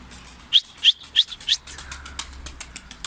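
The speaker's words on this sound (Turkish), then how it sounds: "Bakın kuşlarımız geldi" Pigeons flying in and landing near a keeper with newly fledged young birds, several sharp bursts of wing-flapping about a third of a second apart, then softer flutters and shuffling close by.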